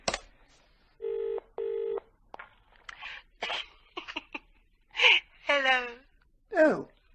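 Telephone keypad tones as a number is dialled: two long steady beeps followed by a run of shorter tones, close and clear, with brief gasping and murmuring vocal sounds toward the end.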